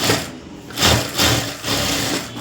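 Sewing machine double stitching a blouse, a close, loud mechanical whir that pulses in uneven surges over a couple of seconds, no voices.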